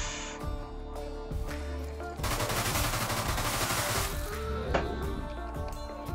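Submachine gun fire in the video game Deadbolt comes as rapid, dense bursts that swell into a sustained loud volley in the middle, over game music and effects.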